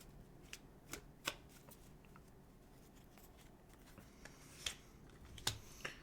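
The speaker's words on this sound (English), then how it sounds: "I'm going to go ahead and shuffle the cards." Tarot cards being shuffled by hand in a quiet room, soft riffling with several sharper slaps and snaps of the deck, faint and close, no voices.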